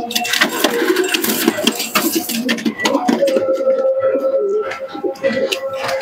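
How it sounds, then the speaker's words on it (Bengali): A pair of Giribaz pigeons from Murshidabad give soft, repeated throaty coos with some fluttering and clatter nearby. A voice talks over the birds at close range. "এক জোড়া কবুতর তোমাদেরকে দেখাবো"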